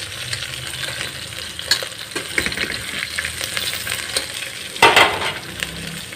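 Onion and jackfruit sizzle in hot oil, a steady frying hiss with stirring scrapes and one louder clatter near the end, close by and without talk.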